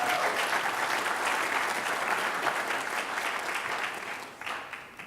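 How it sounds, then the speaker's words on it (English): An audience at a lecture breaks into sustained applause, dense and even clapping for several seconds that thins and fades toward the end. "Yeah, you may applaud."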